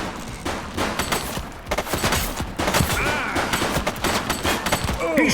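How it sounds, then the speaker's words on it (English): Gunfire in the police video game The Precinct, with repeated loud shots in quick bursts and volleys under busy in-game sound, plus brief voices calling out. "He's shooting!"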